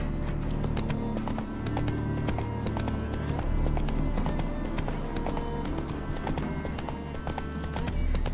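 Roach, the horse in The Witcher 3: Wild Hunt, gallops with fast, steady, rhythmic hoofbeats that continue without a break, loud and close over game ambience, with a brief whinny.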